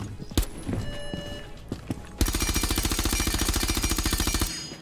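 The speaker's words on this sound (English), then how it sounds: "Okay, moving on to the MP5K." An MP5K submachine gun in Rainbow Six Siege fires a few scattered shots, then a rapid, sustained automatic burst of sharp, evenly spaced cracks for over two seconds before stopping abruptly.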